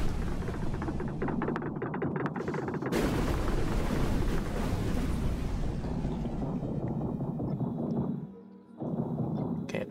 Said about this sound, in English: Auto cannons are shooting,